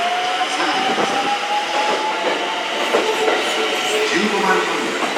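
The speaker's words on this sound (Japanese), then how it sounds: "回送列車が参ります。" An out-of-service JR West train rolls into a platform at Tennoji with rhythmic wheel clatter and a rising squeal, close and loud, while station announcements play over it.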